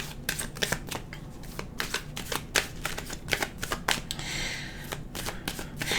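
A deck of reading cards shuffled continuously at close range, a rapid series of crisp riffling flicks and papery snaps with brief pauses between bursts, with no talk over it.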